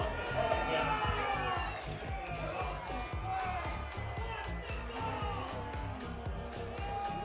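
Spectators at a high school varsity football game murmur and call out in a broad, distant crowd reaction, with a continuous bed of voices and some shouts under nearby talk.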